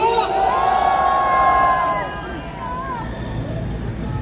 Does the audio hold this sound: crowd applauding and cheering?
yes